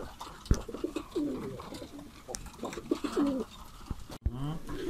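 Pigeons coo repeatedly nearby in soft, rolling phrases, with some rustling and background noise.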